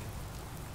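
Rain falling in the video game Fallout 4, a brief, steady wash of hissing patter with a soft low rumble beneath, continuous and even with no voices.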